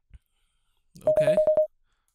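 Text message alert on a Skull Sun Universe 11 phone in the video game Angel Wings: a quick series of about five bright, evenly spaced electronic beeps after a brief tap, clear and close.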